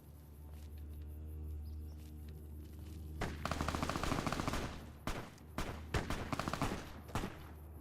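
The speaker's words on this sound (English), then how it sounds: "Those gunshots were way delayed." In the video game Fallout: New Vegas, after a low hum, a rapid burst of gunfire erupts, followed by several separate shots spaced a second or so apart, somewhat distant.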